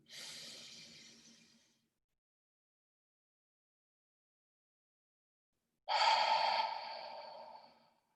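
Deep breathing exercise: a long audible inhale followed, after a silent hold, by a stronger exhale, close and fairly quiet with no talking.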